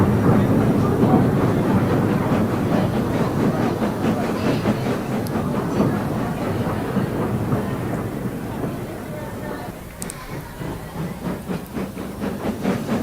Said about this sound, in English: When Barry was given the all clear, he moved the long, heavy train